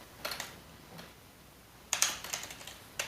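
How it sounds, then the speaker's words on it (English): Keys tapped on a computer keyboard in two short bursts of quick, light clicks separated by a pause, close and clear in a quiet room. "here we would type in the property title"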